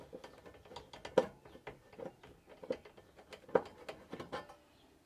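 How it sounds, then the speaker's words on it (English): Cover screws around the gas burner of a caravan three-way fridge are being unscrewed, producing faint, irregular metallic ratcheting clicks and small handling taps up close, with no talking. "take this cover off around the gas burner, which we do with two screws"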